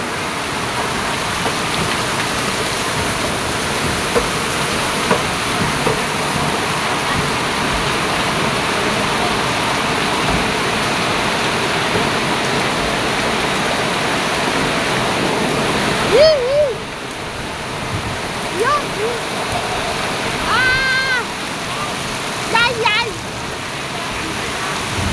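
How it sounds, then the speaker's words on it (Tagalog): Heavy rain pours steadily in a rural Filipino setting, a dense, continuous roar throughout, with brief voices breaking in near the end. "Grabe. Taas ng ulan."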